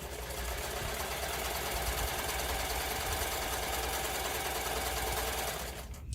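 A sewing machine stitching a buttonhole into fabric while making a small yarn holder, running in one steady, continuous mechanical whir that stays close and loud before stopping at the end.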